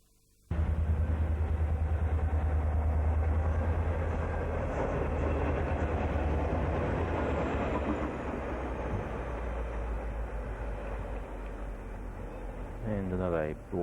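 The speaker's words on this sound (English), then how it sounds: "another broad gauge G-class light loco heads back into Melbourne Port area" A broad gauge G-class diesel locomotive running light near the Melbourne port area passes close by with a loud, continuous engine rumble and rolling wheel noise that starts abruptly and holds steady.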